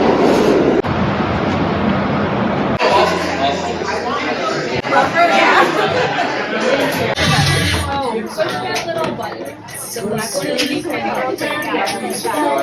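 Subway train rolling along the rails with a steady rumble and clatter, carriage noise filling the ride while people chatter in the background throughout.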